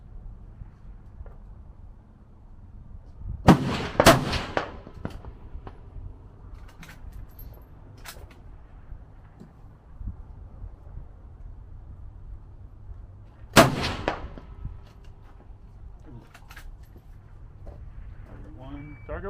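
Two sharp, loud rifle shots from a 6 ARC rifle at an outdoor precision rifle match with long-range targets, spaced about ten seconds apart, each with a brief ringing tail over faint background noise.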